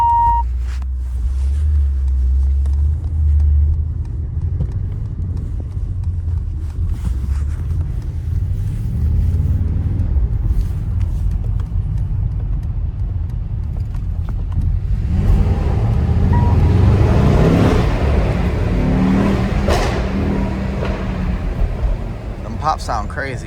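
A Mercedes-AMG GT63S on a late-night drive rumbles deep and steady from inside the cabin, then breaks into a rougher stretch of crackling pops and burbles, with voices talking over it.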